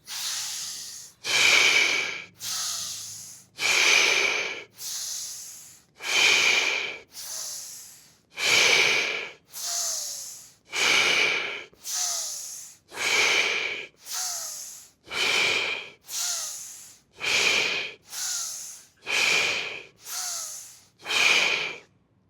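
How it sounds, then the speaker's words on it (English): Slow deep breathing during a tai chi flow, about sixteen long even breaths in a steady rhythm, close and airy with a soft nasal hiss, alone without talk. "15 more breaths."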